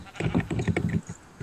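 Sheep in the video game Minecraft let out a quick run of nasal, wavering bleats, close and clear, with no talk over them.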